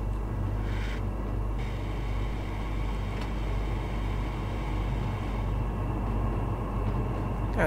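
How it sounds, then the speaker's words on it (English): A Shinkansen bullet train in the Trainz railway simulator: a steady, heavy low rumble and hum, loud and unbroken throughout, with faint higher whines above and no talk. "Another Shinkansen train."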